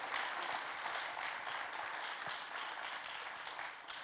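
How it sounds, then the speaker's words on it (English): Audience applause at an AI conference closes a session: a steady, fairly distant wash of clapping that stays even throughout, with no voices on top. "Please join me in a round of applause."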